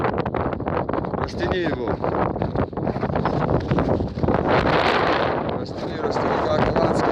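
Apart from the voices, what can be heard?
wind on a mountain summit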